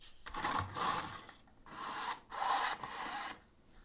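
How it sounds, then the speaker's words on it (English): Waxed thread pulled repeatedly through pre-punched holes as a leather strap is hand sewn onto a leather bag, giving long rasping rubs in bursts with brief pauses between strokes, close and fairly quiet. "Moisten it and then sew it on."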